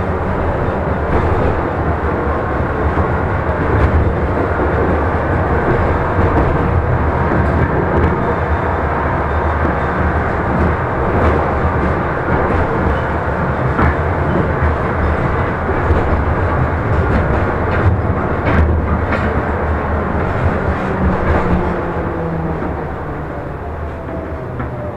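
A Moscow tram departs and rumbles steadily along its rails, a continuous loud rolling drone with faint clicks and squeals of the track, easing slightly near the end.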